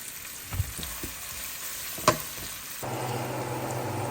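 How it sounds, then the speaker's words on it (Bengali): Chopped onions frying in oil with a little ghee, a low steady sizzle marked by a few clinks of a spoon, then a louder, fuller hiss with a steady hum toward the end. "এর মধ্যে দিয়ে দিচ্ছি পেঁয়াজ কুচি বাদামি কালার করে নিব"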